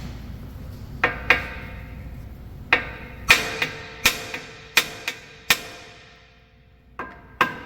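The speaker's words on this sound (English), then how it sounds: "Like me swinging this hammer right now" Sharp metallic hammer strikes ring out one after another, about a dozen irregularly spaced blows, each with a brief ringing decay, in a quiet workshop during a CV axle replacement on a 2011 Honda Odyssey.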